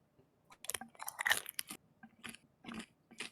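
Crunchy chewing of fried pot stickers or wontons, close-up bites and crisp crunches in irregular bursts, fairly quiet with pauses and no talk.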